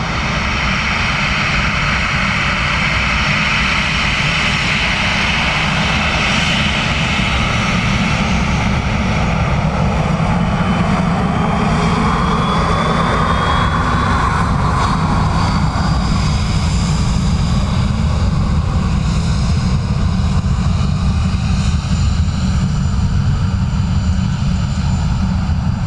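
Airliner landing on runway 28 left at Dublin Airport, a continuous loud engine roar with a propeller-like drone that holds steady for the whole stretch and then shifts slightly in tone, with no talk.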